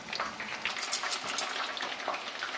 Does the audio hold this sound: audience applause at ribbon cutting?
no